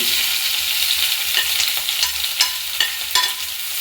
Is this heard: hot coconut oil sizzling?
yes